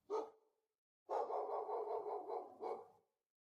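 A dog barks indoors during a podcast recording: one short bark, a pause, then a longer drawn-out bark or howl ending in another short yelp, close and fairly loud against otherwise silent background.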